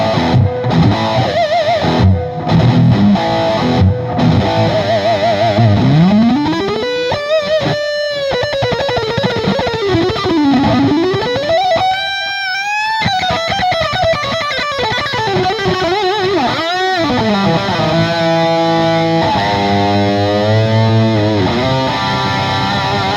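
An electric guitar plays through an MXR Super Badass Distortion pedal, loud saturated chords and bending sustained notes with gliding slides, alone and unaccompanied.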